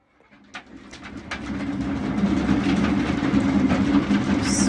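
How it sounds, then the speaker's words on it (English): A steady mechanical rumble of a cat running on a treadmill swells from quiet to loud, with a few light thumps near the start and no talking. "my cat is like running on the treadmill."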